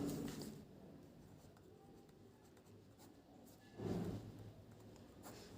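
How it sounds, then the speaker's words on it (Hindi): Faint chalk or marker strokes on a board during a geometry lesson, a few short scratchy bursts at the start and near the four-second mark, set against a quiet room. "यहाँ पे लिखते हैं"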